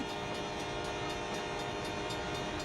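Train roars past a rail crossing close by, its horn sounding loudly and continuously over the rumble of the rail cars.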